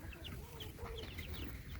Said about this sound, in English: I think we have a few other hens in here.